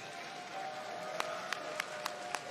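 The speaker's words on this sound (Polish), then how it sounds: "Wielkie brawa dla obu zawodników" A crowd applauds after a Fame MMA 2 bout between Waluś and Czapi, making a steady, dense wash of clapping with a few sharper claps standing out.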